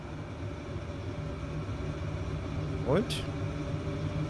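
A regional train in the video game Transport Fever 2 rumbles past with a low, steady rolling drone and a short rising horn or whistle near the end, while a person talks over it.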